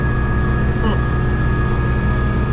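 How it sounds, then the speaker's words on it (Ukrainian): A powerful four-wheel-drive tractor pulls up a steep slope while spraying fruit trees in Spain. Its engine holds a constant, close, droning hum throughout. "Але нічого, трактор спокійно витягує."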